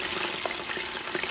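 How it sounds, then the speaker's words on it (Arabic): Onions go into a pan of hot oil with dry spices for meat mandi, frying with a soft, steady sizzle and crackle, continuous and fairly quiet. "بنضيف البصل بتاعنا"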